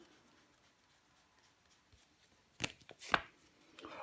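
Playing cards with suits of cups and swords are laid face down on a table. Two crisp slaps land close together near the end, after a quiet stretch of faint background noise.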